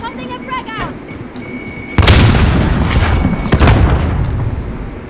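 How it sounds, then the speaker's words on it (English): Grenades going off in a video game, a sudden loud boom followed by a long rumbling blast and a second thump, with people talking over the game audio before and during the explosions. "He's got two Syntex grenades coming for him."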